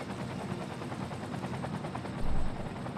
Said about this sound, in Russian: Вертолеты, давайте. Тушите.